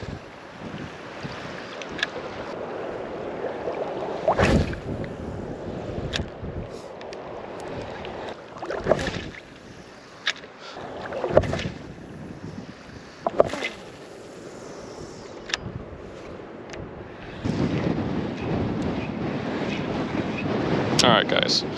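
Strong gusts buffet the microphone on a saltwater kayak fishing outing, a continuous rumbling roar that surges and eases, with occasional knocks against the boat and a voice now and then.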